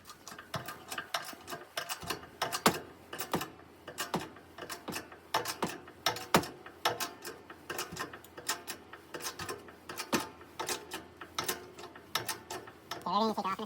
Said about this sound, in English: now I've got a press, my buddy, and we're holding the subframe up, trying to get these bushings in